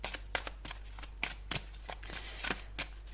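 A deck of oracle cards is shuffled in a brisk run of crisp papery riffles and taps, close to the microphone over a constant low hum.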